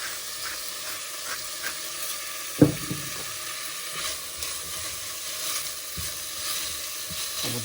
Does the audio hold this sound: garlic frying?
yes